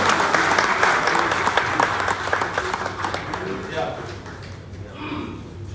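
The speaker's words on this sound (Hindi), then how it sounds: "तालियां बजा करके एक बार गुरु जी का स्वागत करें" A crowd at a national executive meeting of an all-India Gurjar association applauds to welcome a guest on stage, steady loud clapping filling the hall for several seconds before tapering off, with a few voices in the background.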